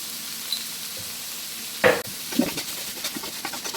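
Peas and carrot curry being stirred in a pan, giving a steady soft sizzle with a couple of distinct scraping stirs of a spoon. No voices are heard.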